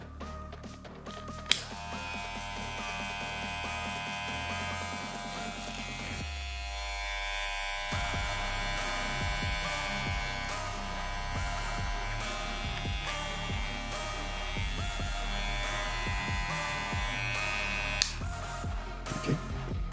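A Kemei KM 1895 hair clipper motor runs steadily at close range, a loud continuous electric buzz with a brief drop around the middle before resuming at full strength.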